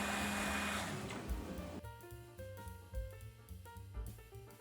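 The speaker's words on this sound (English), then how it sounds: "going to blend the San Marzano plum tomatoes with a plunge blender" An immersion blender whirs loudly through San Marzano plum tomatoes at first, then cuts out, leaving quieter clinking and bumping noises nearby.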